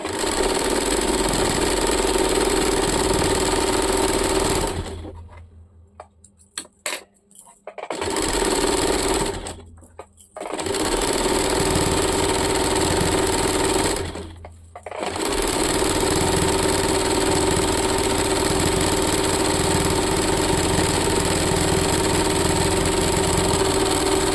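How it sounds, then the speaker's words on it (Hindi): An electric sewing machine runs a long continuous stitching seam on a churidar, with a steady mechanical whir that stops briefly three times, including a longer pause with small handling clicks, before resuming. "इस प्रकार से पूरे में हम लोग एक और सिलाई चला देंगे।"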